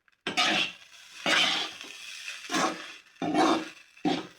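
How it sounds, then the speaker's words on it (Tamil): Egg fried rice tossed with fried rice masala in a pan, stirred in five distinct scraping, rustling bursts separated by short pauses, close and clear with no talk. "இந்த மாதிரி போட்டு நல்லா கலக்கி விட்டுக்கலாம்."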